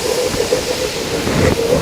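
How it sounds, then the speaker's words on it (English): Whiskey poured into a hot pan to deglaze it, giving a steady loud sizzle and hiss of steam throughout, with no talking. "Now I'm going to deglaze with my whiskey."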